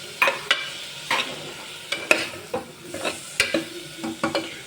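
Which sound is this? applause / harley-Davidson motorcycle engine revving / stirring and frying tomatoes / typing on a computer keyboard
stirring and frying tomatoes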